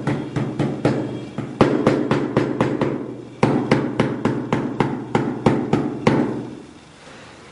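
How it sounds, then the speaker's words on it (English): A slag hammer strikes metal to texture it with small wormhole marks, producing a steady series of sharp, close metallic taps at an even rhythm, about two to three per second, with a brief pause midway, then fading. "we're trying to create like little wormholes using the different points of the slag hammer"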